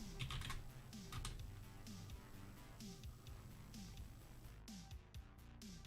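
Typing on a computer keyboard while entering a reboot command during an operating system install: a quick run of close, crisp key clicks with short gaps, ending in a final sharp burst.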